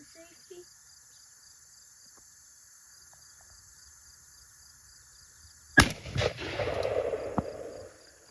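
A .410 Tuffy Turkey shotgun fires once during a dove hunt, a sharp, loud outdoor crack breaking a long quiet stretch of insect chirping and followed by a few seconds of rustling and handling.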